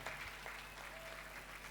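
Congregation applauding at a holy mass during an annual pilgrimage at a national Marian shrine, a steady spread of clapping that is fairly faint and distant, filling the whole moment without voices.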